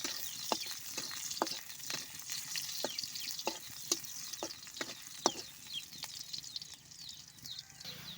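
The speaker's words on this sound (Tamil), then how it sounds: "எண்ணெய் சேர்த்துக்கலாம். வெங்காயம், கடுகு, ஜீரகம், கருவேப்பிலை சேர்த்துக்கிட்டு பாருங்கள், நல்லா வதக்கி விட்டுக்கலாம்." Onion, mustard seeds, cumin and curry leaves sauté in hot oil, giving a steady soft sizzle broken by sharp pops and crackles spread through the clip, close by and moderately quiet, with no voices.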